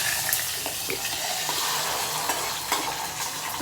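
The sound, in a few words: tempering spices sizzling in hot oil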